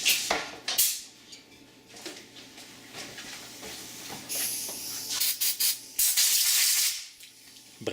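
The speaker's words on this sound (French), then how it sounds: "Brake cleaner, encore une fois," Brake cleaner sprayed onto a carburetor held in a vise: hissing aerosol bursts of varying length, some short and sharp, some sustained, close up with small metallic clinks between.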